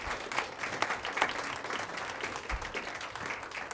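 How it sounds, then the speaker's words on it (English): An audience claps steadily for a high school marching band at an evening school board meeting, with dense, even applause that holds at a moderate level throughout and has no talk over it. "How about another big round of applause?"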